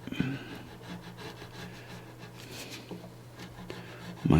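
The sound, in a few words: rubbing grime off a guitar fretboard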